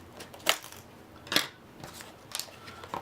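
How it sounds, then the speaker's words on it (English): Three or four crisp scissor snips cut through the packaging of a Star Wars: Imperial Assault Boba Fett villain pack, spaced about a second apart, close and fairly quiet. "Gonna use the scissors as usual."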